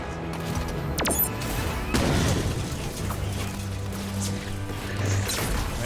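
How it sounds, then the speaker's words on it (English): A fragile spot shatters under a ground pound in Halo 5, bursting into tiny pieces with a loud crash amid booming gunfire-like blasts and a dense game soundscape. "ground pound also breaks those fragile spots. Yes, there it goes. It explodes into sort of tiny pieces."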